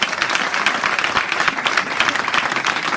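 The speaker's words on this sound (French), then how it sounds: "On peut les applaudir." An audience at a hackathon project presentation breaks into dense, steady applause that fills the whole stretch with loud, even clapping and no voices on top.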